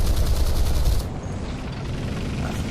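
MBT 70 tank firing its 20mm cannon in War Thunder, a loud rapid burst of shots for about a second that gives way to lower rumbling.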